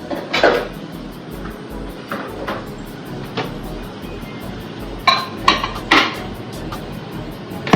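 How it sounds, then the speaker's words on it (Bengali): A glass dish is placed into a home microwave oven in a family kitchen, making a series of close, sharp clinks and hollow clunks with short pauses between them and no talking. "আমি এখন মাইক্রোওভেনে দিয়ে দিচ্ছি।"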